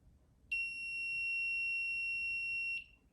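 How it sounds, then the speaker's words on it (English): A steady electronic buzzer tone from a DIY face-detection robot sounds loudly for about two seconds, then cuts off, with faint background hum before and after. "the buzzer make a noise because both eyes are closed"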